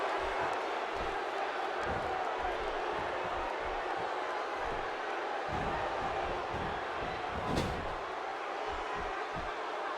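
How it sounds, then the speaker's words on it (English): A dense arena crowd from the WWE 2K16 wrestling video game buzzes continuously, a broad, steady wall of murmuring voices with scattered thumps and a brief louder swell, filling the space without pause. "The crowd is buzzing."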